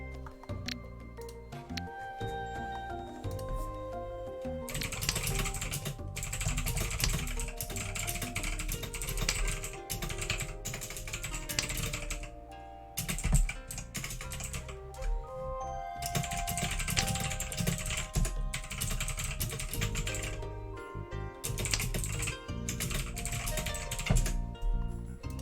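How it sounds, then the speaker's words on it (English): Fast computer keyboard typing during an online mahjong tournament, a steady clatter of keystrokes in bursts with brief pauses, close and fairly loud, with no talking. "Okay, so he was typing."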